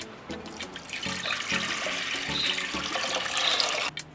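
About one and a half litres of water pour steadily into a pot holding sliced garlic cloves, making a close, continuous splashing gush that ends abruptly.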